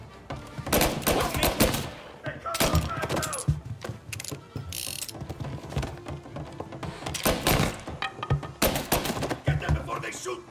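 Gunfire in the video game Mafia Definitive Edition: sharp, scattered shots crack out in irregular bursts throughout, mixed with clattering mechanical noises and occasional shouting voices.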